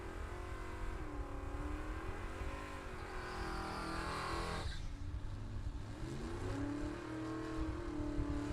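A street legal sprint car at a vintage drag race in Illinois roars down the strip in the right lane, its engine loud and continuous with rising revs, a sharp shift midway, then a steady high-pitched pull.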